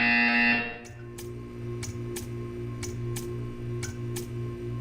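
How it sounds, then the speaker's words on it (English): A loud electronic buzzer in Portal 2 blares briefly, then cuts off, leaving a steady hum with regular clicking ticks. "You will hear a buzzer. When you hear the buzzer, stare at the art."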